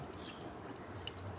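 Manathakkali greens are swished and rinsed in a pot of water, giving soft, close splashing and dripping under a low, continuous background.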